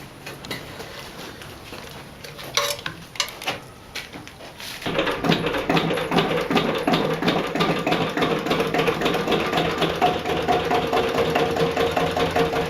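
A greased motor runs on a palm oil site, starting with scattered clunks and knocks, then settling into a steady, loud mechanical chugging with a rapid regular rhythm for the rest of the stretch.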